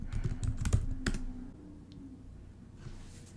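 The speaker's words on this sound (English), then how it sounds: "just type it in the search bar." Keystrokes on a computer keyboard as a search term is entered, a short burst of clicks in the first second or so, then quieter, sparse taps.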